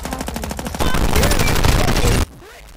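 Sustained automatic AK rifle fire in a video game, loud and close with rapid repeated shots, then cutting off abruptly into quieter background.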